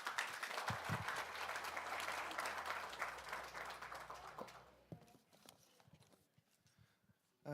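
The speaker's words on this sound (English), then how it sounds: "Please give him a big round of applause." A conference audience at a university presidents' anniversary meeting in Seoul applauds: dense, loud clapping for about five seconds, then it thins to scattered claps and fades out.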